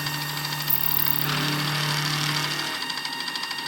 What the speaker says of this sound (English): You can hear a little bit of noise. I think it's on the belt.